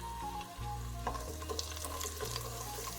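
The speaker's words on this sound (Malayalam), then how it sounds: "എന്നിട്ട് നമുക്ക് അണ്ടിപ്പരിപ്പും മുന്തിരിയും ഫ്രൈ ചെയ്തെടുക്കാം" Raisins fry in hot oil left from browning cashews for a Kerala fish dum biryani, giving a soft, steady, close sizzle with light stirring scrapes throughout.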